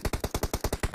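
Rapid automatic gunfire in the mobile game PUBG Mobile, a tight burst of about nine evenly spaced shots, loud and punchy with no voices over it.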